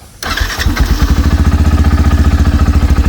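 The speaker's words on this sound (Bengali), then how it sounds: "বাইকটা যদি স্টার্ট করি দেখেন" A like-new second-hand Yamaha FZS V3 Deluxe hybrid motorcycle fires up after a short starter crank, then settles into a loud, even, rapidly pulsing idle heard close and alone.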